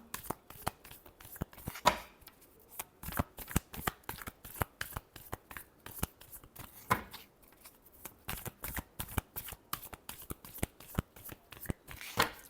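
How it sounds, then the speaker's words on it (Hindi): Tarot cards are shuffled by hand in a long run of quick, soft riffling and slapping strokes, close and fairly quiet, continuing steadily with no voices. "last shuffle"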